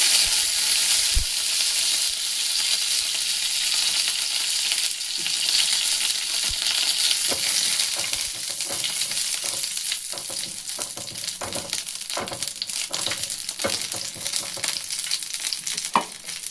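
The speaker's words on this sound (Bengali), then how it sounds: "তেল দিয়েছি দেব একটা শুকনো লঙ্কা মাঝখানে ছাপিয়ে কয়েকটা কারিয়া পাতা" A dried red chili and a few curry leaves fry in a spoon or two of hot oil, giving a close, steady sizzle that breaks into sharper spitting crackles and pops toward the end, with no voices.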